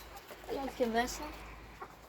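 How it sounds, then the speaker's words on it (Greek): Chickens cluck softly nearby while eating in a small coop, as a person briefly speaks over them in Greek. "Να, εδώ πέρα, να οι κότες τρώνε."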